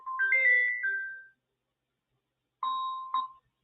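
A phone ringtone for an incoming call plays in two short bursts of bright electronic chime tones separated by a pause of about a second, clear and close with no talking.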